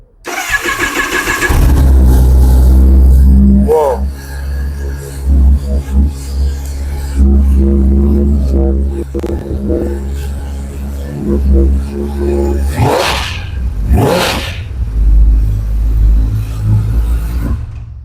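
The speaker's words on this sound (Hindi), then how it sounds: "पहले वार्म अप होता है, उसके बाद में आप मोटरसाइकिल थोड़ा सा रेव कर सकते हैं" A Kawasaki motorcycle engine starts with a burst and settles into a steady, throaty warm-up idle, with a couple of brief revs near the end, loud and close.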